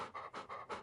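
Quick, rhythmic dog-like panting, close and faint, with about four breaths in under a second, heard during a tabletop role-playing game session.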